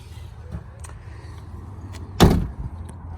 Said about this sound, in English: So let's open the trunk.